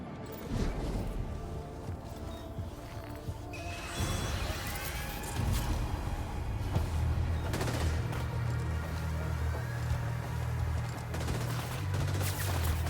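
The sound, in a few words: gunfire in the video game Death Stranding 2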